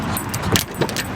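Car keys jangle in short metallic bursts, close and fairly loud, with faint vehicle noise in the background.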